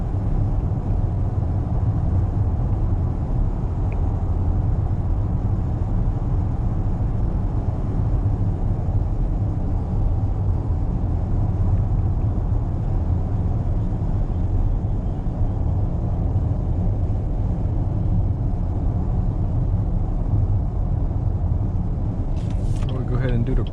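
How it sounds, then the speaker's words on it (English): A 2019 Cadillac XT5 accelerates in sport mode on a night drive, a steady, smooth engine and road rumble filling the cabin at an even level with no sharp revving peaks. "I'll give it an acceleration test. I'm gonna throw it down in sport and just kind of go from there."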